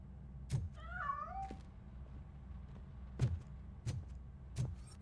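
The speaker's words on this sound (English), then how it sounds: "That cat must be hiding inside." A cat meows in RoboCop: Rogue City, one rising and falling call near the start over a low game ambience, followed by a few soft knocks and thumps.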